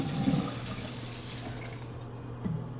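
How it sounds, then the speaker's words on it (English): Noodles rinsed under a running kitchen tap, a steady close rush of water into the sink with a couple of faint knocks, no voices. "Get a good rinse on them."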